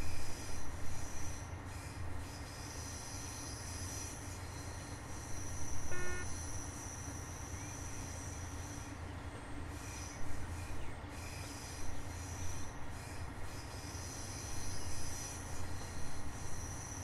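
A train in Train Sim World 3 rolls past a station, a steady rumble of wheels on rail throughout with brief squeals and a short tonal signal partway through, no talking.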